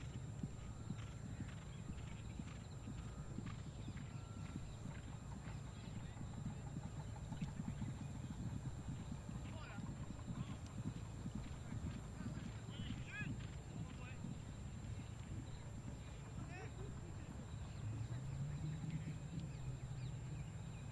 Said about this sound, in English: We've got Saad Jehangiri on a beautiful grey horse called Majestiosa.